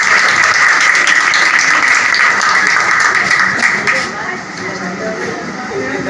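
Loud crowd applause for a prize winner at an essay competition medal ceremony, a thick, hissing wall of clapping that holds steady, then dips and continues more softly near the end.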